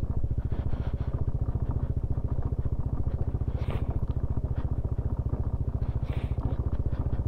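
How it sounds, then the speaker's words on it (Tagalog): A motorcycle engine throbs steadily and loudly throughout while riding a rough road toward waterfalls in Igbaras, Iloilo, with a fast even pulse and occasional rattles and clatter over the top. "Kaya pa ito ng motor natin."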